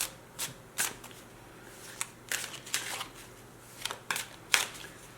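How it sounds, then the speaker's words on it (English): Tarot cards being shuffled by hand in a series of crisp riffling and slapping bursts, irregularly spaced and close up, over a faint low room hum with no speech. "So I'm shuffling,"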